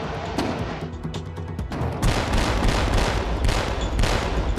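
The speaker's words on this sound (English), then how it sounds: "So right now we'll move into shooting a slowly moving target." A US Navy warship's deck gun fires bursts at a slowly moving target: dense, loud, continuous booming and crackling volleys. They are sparser in the first two seconds, then a sustained heavy barrage to the end with no talk.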